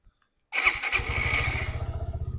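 After a brief silence, a motorcycle engine cranks and catches at once, then settles into a steady, even idle close by.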